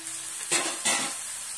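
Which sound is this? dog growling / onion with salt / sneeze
onion with salt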